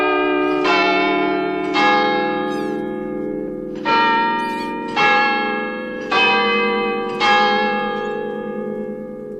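Church-type bells in a harbour tower are struck six times at a steady, unhurried pace, each ringing strike blooming loud and then decaying into a sustained hum before the next.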